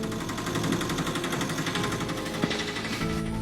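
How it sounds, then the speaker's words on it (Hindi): Cartoon auto-rickshaw engine chugging loudly and steadily, a dense pulsing rattle with a brief clank midway, carrying on alone without voices. "तभी इन लोगों को ऑटो की आवाज सुनाई देती है"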